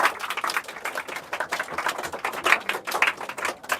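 Loud, dense applause from a class of students cheering a classmate in a Bihar Board Class 10 science test setting, steady crackling clapping that swells slightly throughout without pause.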